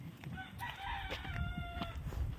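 A pet rooster crows once, a drawn-out call rising and falling over about two seconds, heard at moderate distance over faint outdoor background noise.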